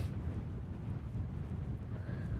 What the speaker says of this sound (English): Well, it's windy here